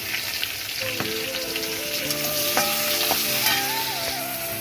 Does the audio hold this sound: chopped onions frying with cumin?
yes